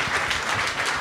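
Audience applause at a lecture, dense and steady clapping from a crowd throughout, with no voices standing out above it.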